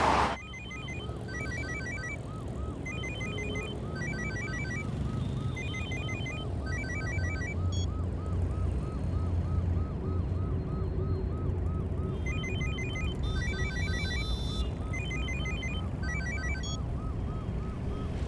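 A mobile phone in a Hindi-dubbed South Indian action thriller rings continuously, a repeating electronic tone pattern with sirens and a music-like bed beneath it, steady and fairly loud, with no one talking over it.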